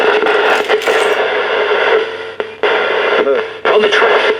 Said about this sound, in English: I'm now going to start CoopBox 15 with the hiss turned on.